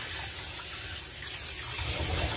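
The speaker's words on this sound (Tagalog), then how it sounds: "Kailangan natin hugasan ng maayos ang ating mga isda." Fish are washed under a running tap, a steady close gush of water splashing into the sink.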